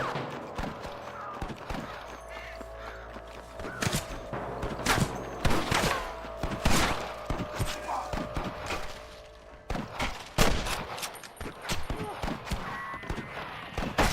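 Repeated sharp gunshot cracks and thuds from the video game Red Dead Redemption, irregular and fairly close, scattered through the clip over a busy background.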